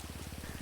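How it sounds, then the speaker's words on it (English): Rain falls in a video game as a soft, steady patter of drops with a faint rhythmic pulse underneath, quiet and continuous through the short moment. "It's raining."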